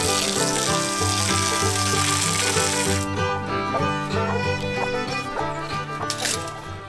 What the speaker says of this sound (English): I'm gonna go ahead and spray a little water in the mud hole here for the duck